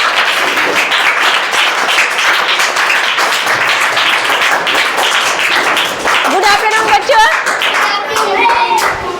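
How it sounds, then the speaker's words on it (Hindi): Loud applause and clapping from a school audience at a Safe Saturday event, dense and continuous throughout, with children's voices rising over the clapping toward the end. "उनके लिए जोरदार ताली।"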